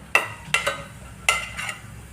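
Roasted chana dal tipped into hot oil makes several sharp, close bursts of scraping and sizzling, in two groups, with quieter frying between them.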